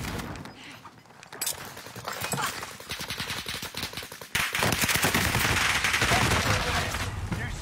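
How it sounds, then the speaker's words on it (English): Rapid, sustained gunfire in an online video game tournament match, with automatic bursts rattling almost without pause and growing denser and louder halfway through, over a busy background of game effects. "another person starts shooting at me?"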